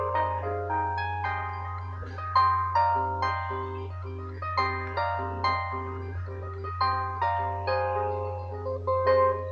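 An instrumental cover played as bright, plucked melodic notes in a steady rhythm over a continuous low hum, loud and close with no voices.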